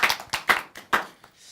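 A few audience members clap before a self-composed song is performed at a church event: about five distinct, sparse hand claps in an irregular rhythm, fairly close, trailing off into quiet.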